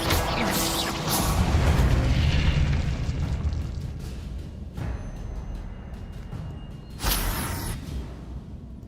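The Confringo fire spell in the Hogwarts Legacy video game lands as a sustained, rumbling explosive blast with a whooshing tail, followed by a second burst and a bright crackle near the end; no voices.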